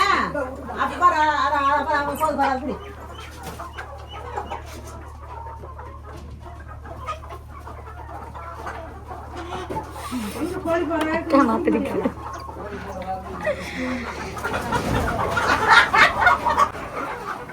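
Chickens cluck intermittently around a home during preparations for a village meat feast, mixed with steady nearby chatter and a constant low hum.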